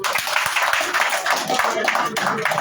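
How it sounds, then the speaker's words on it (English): A small crowd claps at a press conference held by the Monrovia City Mayor, irregular and fairly close hand claps with some murmuring voices mixed in. "Clap for him."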